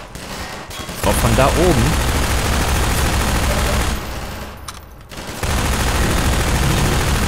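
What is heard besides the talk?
gunfire in the video game Half-Life 2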